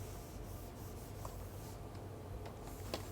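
A pencil scratches and rubs across paper while sketching a race refreshment-station scene for a UTMB poster, a faint continuous drawing texture with a few light strokes standing out.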